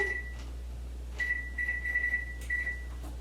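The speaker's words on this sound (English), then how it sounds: "go ahead and put it in there and set the timer." A kitchen oven timer being set while butternut squash soup is made, giving a short electronic beep and then a run of quick repeated beeps, close and clear over a low hum.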